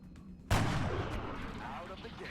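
A single sharp gunshot from the XCOM: Long War video game, with a loud crack followed by a rumbling decay over low ambient game noise.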